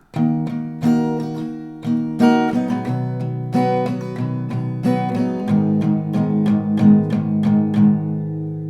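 An acoustic guitar strums a slow chord progression, a steady rhythm of close, ringing strums shifting between two chords, with no voices.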